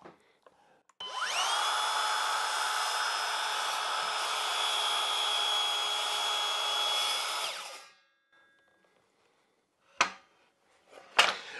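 A portable circular saw crosscuts wood on a sled, starting with a rising whine and holding a loud, steady high-pitched buzz for about seven seconds before spinning down. A couple of faint knocks follow.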